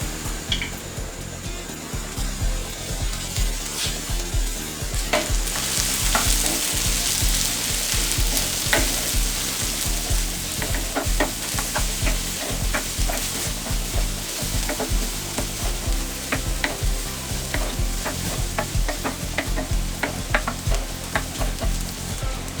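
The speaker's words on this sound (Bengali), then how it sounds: "এবার এর মধ্যে ভেজে রাখা কর্নটা দিয়ে দিচ্ছি।" Pre-fried corn tossed into sizzling fried onions in a pan, a loud, close, continuous frying hiss with repeated sharp spatula scrapes and clicks as it is stirred, no talking.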